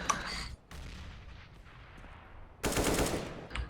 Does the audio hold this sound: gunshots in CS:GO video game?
yes